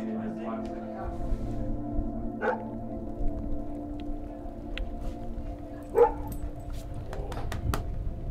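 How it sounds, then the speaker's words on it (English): A big dog gives a few short, fairly close barks and whimpers on a mountain hiking trail in the Italian Dolomites, between stretches of people talking nearby. "Big dog."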